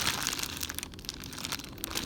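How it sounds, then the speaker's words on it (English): Plastic bags of zip ties from a Spirit Halloween prop unboxing crinkle and rustle steadily up close, a continuous soft crackling without speech. "Bags of zip ties."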